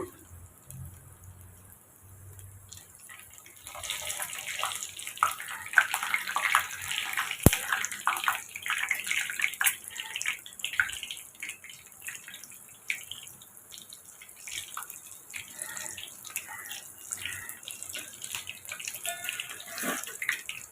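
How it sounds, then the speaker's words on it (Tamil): Bread and egg cutlet sizzling in a frying pan after being flipped, a steady crackling hiss of hot oil that grows louder and holds throughout, with no talking. "இப்போ நம்ம கட்லெட்டை திருப்பி விட்டுக்கலாங்க"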